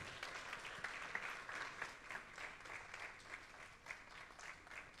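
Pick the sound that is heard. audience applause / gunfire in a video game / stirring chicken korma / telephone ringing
audience applause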